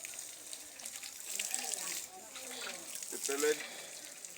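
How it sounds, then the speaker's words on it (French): Water pours steadily onto a tree nursery bed during a final watering, a soft continuous splashing and trickling close by, with a person talking over it. "nous allons procéder à l'arrosage, une dernière arrosage de notre planche"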